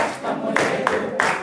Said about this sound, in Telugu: చప్పట్లు కొడుతూ చెప్పండి